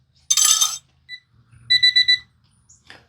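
A drum smoker's ready alarm beeps in two short bursts of rapid electronic tones, loud and close, with a brief blip between and a faint click at the end; nobody speaks.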